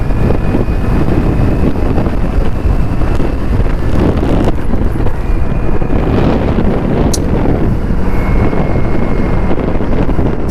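A 2025 Honda Activa 125 scooter engine drones loudly as it picks up speed, buried in heavy wind rush against the microphone.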